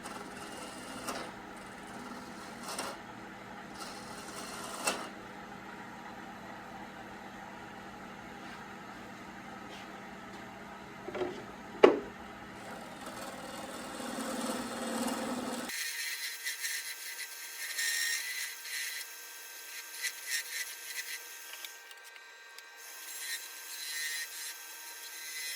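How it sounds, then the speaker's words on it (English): A wooden bowl spinning on a lathe as a gouge takes light cuts, giving a soft, continuous scraping and rubbing hiss with a sharper knock partway through, quiet and steady with no speech. "I only use light cuts and mostly pushing towards the bowl rather than towards the center."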